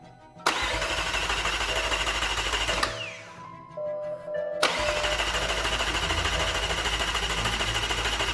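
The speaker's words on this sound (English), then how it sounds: "My dad was just going to put power directly to the starter motor whilst I had the ignition on." A crash-damaged McLaren 720S with its starter motor wired straight to power cranks with a fast, rhythmic whirring buzz that fails to catch. It stops briefly in the middle, then cranks again just as steadily.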